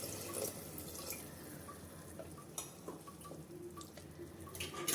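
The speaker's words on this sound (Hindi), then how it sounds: "हम 2 कप इसमें डालते हैं पानी, क्योंकि नेनुआ है तो पानी खुद वो छोड़ेगा।" Water is poured into a pressure cooker holding ridge gourd and chana dal, a soft steady splashing and trickle with faint clinks, quiet and without talking.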